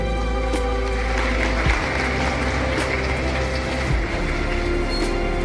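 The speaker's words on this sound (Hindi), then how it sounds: "तालियां बजती रहे।" Audience applause fills a hall at an annual prize distribution function of a government college in Rampur Bushahr: steady, dense clapping that runs throughout at an even level over a low hum.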